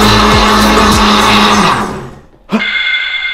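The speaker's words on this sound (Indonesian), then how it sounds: "ini blender Kosmos Blend seri 832 PC yang sudah dilengkapi dengan teknologi blends" A Cosmos Blend 832 PC blender motor runs loud and steady, cuts out abruptly, then restarts after a brief near-silence at a sharper, higher whine.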